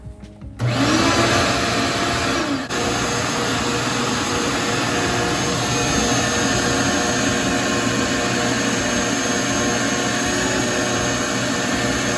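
Shop-Vac vacuum in a small workshop dust collection system switches on with a quick rise, then roars steadily and loudly with a constant whine, running alone without voices.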